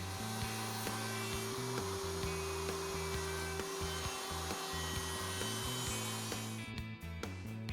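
A router table cuts box joint sockets in a wood board on a Leigh B975 jig, with a steady high motor whine and a grinding cut that pulses in short repeated passes, then stops abruptly near the end.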